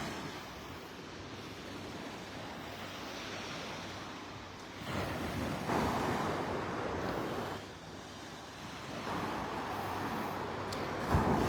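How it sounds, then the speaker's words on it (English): Ocean waves break over a sandbar off a Florida Gulf beach, a steady distant roar of surf that swells and eases, with wind buffeting the microphone and no talk. "You see the waves breaking over the sandbar out there."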